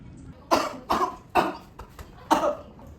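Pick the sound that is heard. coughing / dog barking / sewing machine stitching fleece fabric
coughing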